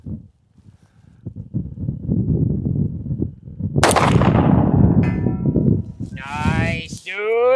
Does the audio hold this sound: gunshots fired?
yes